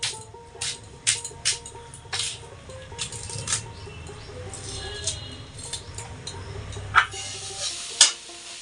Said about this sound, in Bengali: এখানে হচ্ছে সয়াবিন ভাজা করছি